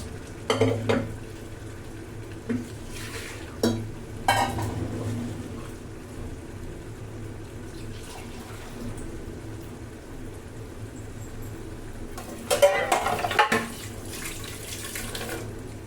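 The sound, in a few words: pouring mashed dal and water into a cooking pot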